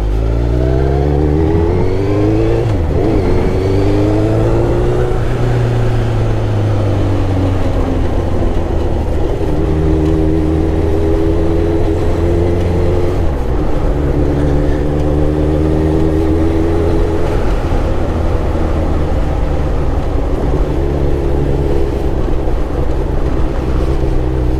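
A car engine revs loudly and continuously while driving, its pitch climbing and dropping with throttle and gear changes, heard close with no talk over it.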